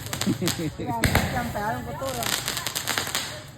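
A few sharp firecracker bangs go off at a Vietnamese village celebration of the 30 April liberation anniversary, popping briefly at moderate distance beneath a voice talking.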